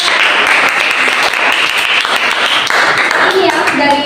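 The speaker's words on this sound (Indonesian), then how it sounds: "Jadi tepuk tangan untuk semua kelompok ya" A classroom group claps together for all the student groups, a dense, loud burst of applause running steadily for several seconds with some voices mixed in.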